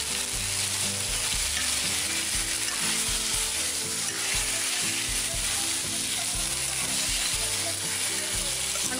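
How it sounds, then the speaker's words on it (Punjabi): Taro (arbi) coated in spices sizzles loudly in a frying pan as a ladle stirs it, with steady crackling frying and repeated scraping strokes throughout, close and continuous with no talking. "ਕੜਛੀ ਇਸ ਕਰਕੇ ਲਈ ਹੈ ਤਾਂ ਕਿ ਜਿਹੜੀ ਅਰਬੀ ਹੈ ਆਪਣੀ ਵਧੀਆ ਤਰ੍ਹਾਂ ਅਲੱਗ ਅਲੱਗ ਹੋ ਜਾਵੇ"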